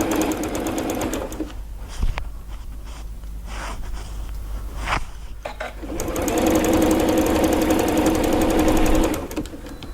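A sewing machine stitches a project bag in rapid mechanical bursts, running, pausing with a few clicks and handling noises, then starting again in a longer steady run close by.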